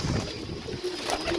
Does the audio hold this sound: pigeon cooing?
yes